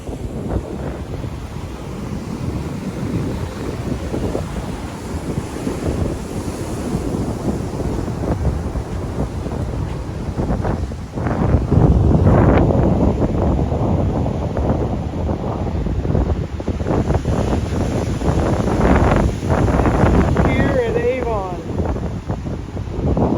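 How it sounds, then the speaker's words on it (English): Rough sea waves churn and crash on a windy Outer Banks beach under angry, marginal weather, with heavy wind buffeting the microphone and a louder surge midway, constant roaring wash throughout. "The churning of the sea."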